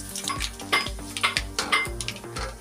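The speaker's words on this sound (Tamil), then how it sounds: "கடுகு நல்லா பொரிய விட்டுறலாம்." Mustard seeds splutter and pop in hot oil in a home kitchen pan, a close, busy run of sharp little crackles with soft clinks, no voices.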